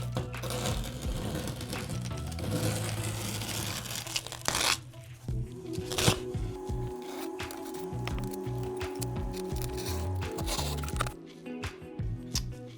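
Masking tape torn and peeled off dried paint on an art print, close crackling rips in bursts with short pauses, loud and up close.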